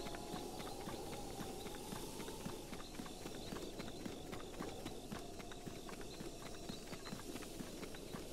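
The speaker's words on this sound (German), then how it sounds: "Ich frage mich nur, ob es klug ist, mit dem Pferd durchzugehen." A horse gallops across open ground in The Legend of Zelda: Breath of the Wild, its hoofbeats a fast, continuous clip-clop rhythm under a steady game ambience, without speech.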